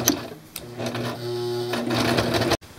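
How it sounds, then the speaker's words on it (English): Sewing machine running a continuous stitching burst while hemming hammock fabric, steady and close, then stopping abruptly. "We're going to hem up some of this hammock."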